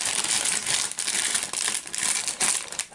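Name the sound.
opening plastic bag packaging of an optical audio converter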